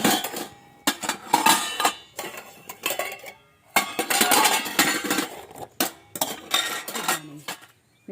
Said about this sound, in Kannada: ನಿನ್ನೆ ಸಂಜೆ ಪಾತ್ರೆಗಳೆಲ್ಲ ತೊಳೆದಿದ್ದೆ, ಅದನ್ನು ಕೂಡ ಈಗ ಹಾಗೆ ಇಲ್ಲೇ ಆರು ಹಾಕ್ತಾ ಇದ್ದೀನಿ